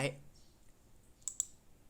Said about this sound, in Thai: คลิกเลือกไฟล์ครับ แล้วคลิก Open แล้วรอครับ